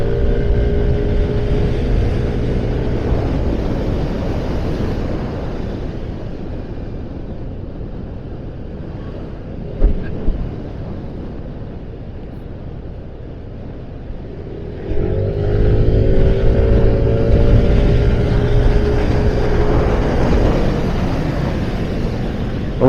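A Yamaha NMAX 155 scooter rides through curves on a road, its engine drone and heavy wind roar filling the whole stretch, easing off in the middle and rising again, with no one talking.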